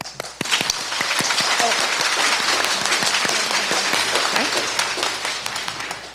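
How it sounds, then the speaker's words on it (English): An audience claps hard together through a lecture hall, a dense, steady wash of hand claps that holds at full strength for about six seconds. "I want you to clap really hard."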